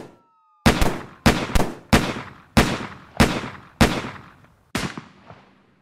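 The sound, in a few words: gunfire exchange between police and shooters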